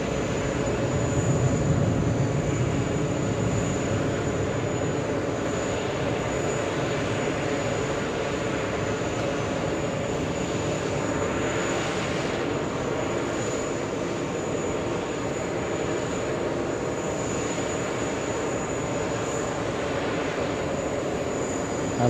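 An Asiana Airlines aircraft at JFK airport gives a steady, continuous engine roar that holds at an even level throughout, with no voices.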